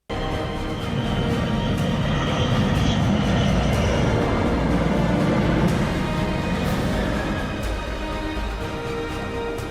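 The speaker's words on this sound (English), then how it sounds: "the magnificent B-2 bomber as it's captured landing" A loud, steady jet engine roar from a B-2 stealth bomber landing nearby, sustained for several seconds and slowly shifting in tone.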